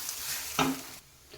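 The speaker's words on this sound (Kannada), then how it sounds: "ಈಗ ಇದನ್ನು ಕೂಡ ಇದೇ ಎಣ್ಣೆಯಲ್ಲಿ ಫ್ರೈ ಮಾಡಬೇಕಾಗತ್ತೆ ಚೆನ್ನಾಗಿ ನೋಡಿ." Grated coconut and coriander leaves frying in oil for a red chutney, a brief close hiss of frying with a sharp stirring scrape in the middle.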